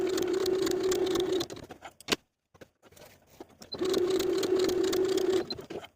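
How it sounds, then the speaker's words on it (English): Sewing machine running long gathering stitches on a raglan sleeve top, a loud close whirring hum in two sustained runs separated by a quiet gap with a few clicks. "we're going to sew gathering stitches from the notches to the neckline on both the front and back sides"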